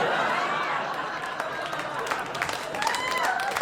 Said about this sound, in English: Yeah, clap now.